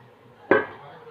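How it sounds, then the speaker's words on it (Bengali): A lid is set down once on a cooking pot of bitter dal with bottle gourd and drumstick pieces after water is added, making a single sharp clank that fades quickly into quiet kitchen background. "আবার একটু ঢেকে দেব।"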